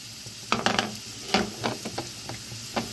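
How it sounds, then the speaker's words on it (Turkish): Chopped onion and carrots sauté in a pan for a home dinner, a steady sizzle broken by a string of sharp spoon-on-pan scrapes and stirs. "Şimdi ee, soğanı da kavurayım havuçla"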